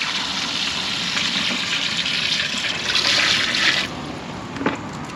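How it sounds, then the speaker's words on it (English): Water pours steadily into a new Dometic Ibis 4 washing machine installed in a caravan, a continuous close splashing gush that swells slightly before easing into a softer trickle, with no talk. "it's the first time using the new washing machine. I'm way too excited for this. This is great. Just pour a bit of water in."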